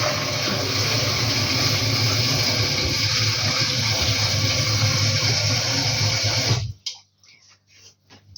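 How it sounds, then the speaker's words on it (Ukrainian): Cold water gushing loudly and steadily into a pot for boiling tongue, a dense rushing pour that stops abruptly near the end, followed by faint dripping and small clinks. "просто заливаю холодною водичкою і ставлю на плиту"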